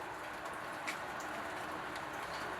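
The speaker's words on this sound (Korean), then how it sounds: "산속에 아침을 깨우는 빗소리." Rain falls on a pottery workshop yard in the mountains near Muan, a soft, even, distant patter of drops with a faint tick or two, quiet and steady throughout.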